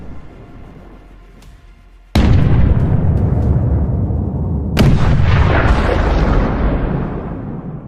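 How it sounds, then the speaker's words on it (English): A Leopard tank firing at a Russian column, two heavy booming shots a few seconds apart, each followed by a long rumbling decay, after a quieter stretch of background noise. "Ukrainian Leopard opens fire at the occupiers."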